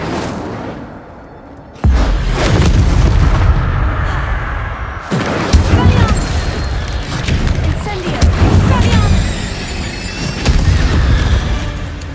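The Incendio fire spell is cast in Hogwarts Legacy, producing heavy booming fiery blasts that erupt suddenly and roar on, with a couple of renewed bursts and crackling tails.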